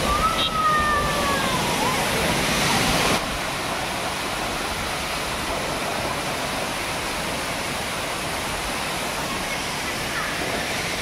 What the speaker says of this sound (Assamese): এইফালে এটা জলপ্ৰপাত দেখিছোঁ